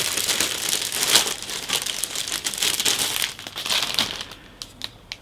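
Close, loud crinkling of a plastic bag holding a wing sprue from a 1/48 Kinetic Harrier GR.1/GR.3 model kit as it is handled. The rustling runs continuously in irregular bursts and eases off toward the end.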